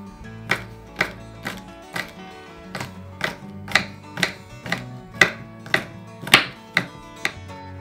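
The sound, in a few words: chopping green beans into small pieces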